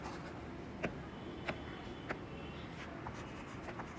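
A marker squeaks and taps faintly on a board in a few short strokes spaced about half a second apart, quiet over a steady room hiss.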